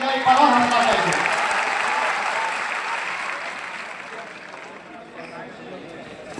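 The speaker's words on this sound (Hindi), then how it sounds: "आप लोग एक बार जोरदार तालियों से इनका एक बार और हौसला करेंगे।" Jan Suraaj Party gathering at Bapu Sabhagar hall in Motihari, where the audience claps loudly to encourage someone speaker, dense applause that starts strong and gradually thins and fades toward the end.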